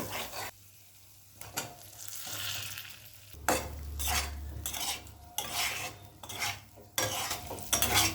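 Fried potato and cauliflower are sautéed with spices in a pan over a medium flame. Bursts of sizzling mix with spatula scrapes and clatter against the metal in uneven pulses, with brief quieter gaps between strokes.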